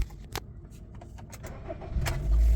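A Honda Rebirth scooter with an engine fault that makes it cut out: a few clicks and handling noises, then the engine catches with a loud, close low rumble in the final moments.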